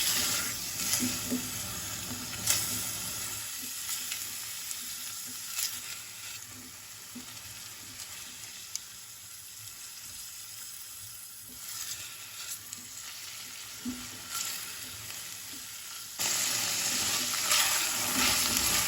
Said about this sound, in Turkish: salçamızı ilave ediyoruz. Hepsini biraz kavrulsun.